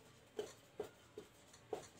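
A sentence being written on a board: four short, quiet strokes spaced roughly evenly apart, soft and close, with no voice.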